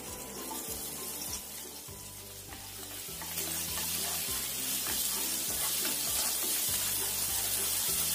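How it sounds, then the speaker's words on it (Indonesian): Garlic sizzling in a small amount of melted margarine in a pan, a steady close frying hiss that grows louder and brighter partway through, with no voices. "Setelah meleleh, kita masukkan bawang putihnya."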